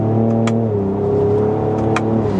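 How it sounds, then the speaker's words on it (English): A Ford Ranger Raptor pickup's V6 engine holds a loud, steady close-up drone with shifting harmonic tones as it downshifts, marked by two short sharp pops or crackles, with no talking. "See, the downshifts are very aggressive"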